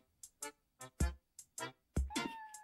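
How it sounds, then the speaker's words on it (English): A cat meows in a song: a run of short, rhythmic vocal bursts ends in a louder, drawn-out meow. "we're back at the song with the cat meowing"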